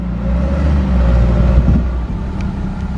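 Car engine rumbling loudly and close as vehicles pull away from a Cars and Caffeine meet at Combermere, a steady low drone with slight revving and no talk.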